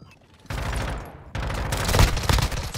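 Bursts of gunfire ring out in Modern Warfare II, a short volley followed by a longer sustained stretch of rapid automatic shots, loud and close.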